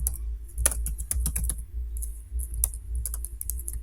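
Fingers type on a computer keyboard in an irregular run of close, crisp key clicks with brief pauses, ending with a few separate presses.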